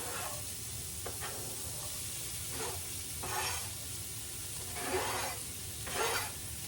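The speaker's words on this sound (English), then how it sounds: "I'm gonna drop my onions and celery in there now," Onions and celery sizzle in a hot oiled skillet, a steady frying hiss broken by a few louder bursts of stirring and scraping spaced a second or two apart.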